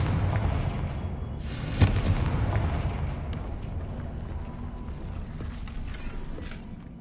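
A Confringo blasting curse in Hogwarts Legacy explodes with a sharp bang followed by a rumbling burst. A couple of smaller pops come after it over a continuous low game ambience.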